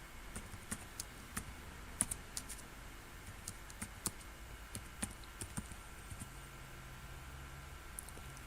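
Quiet keyboard typing at a computer while programming a robot, a scattered run of soft clicks and taps spread across the stretch with a steady background hum and no talk.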